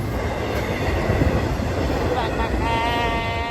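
A freight train carrying piggyback trailers rolls past at Fullerton, making a loud continuous rumble of wheels and cars with rising squeals toward the end.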